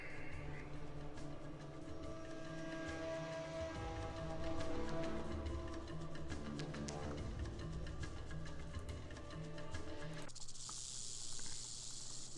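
Ambient snake hiss from the video game Fallout 2, a steady breathy hiss running through the scene over low game background sound, cutting off sharply near the end into a different texture.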